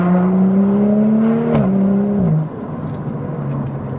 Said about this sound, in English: God, I love the sound of the upshifts